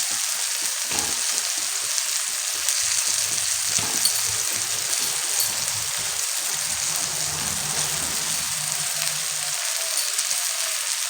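Boiled potatoes fry in a pan of mixed dal tadka with a loud, continuous hissing sizzle like steady rain, and occasional soft stirring knocks underneath.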